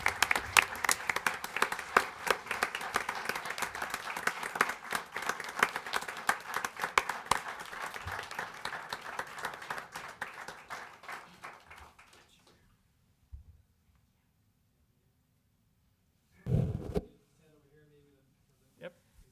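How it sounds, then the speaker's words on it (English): Loud, sustained applause from an audience at a Springville city council meeting as award recipients come forward. The clapping runs dense for about twelve seconds, then fades into near silence broken by a couple of short noises. "Let's give them a round of applause."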